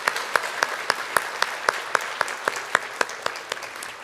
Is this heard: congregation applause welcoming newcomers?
yes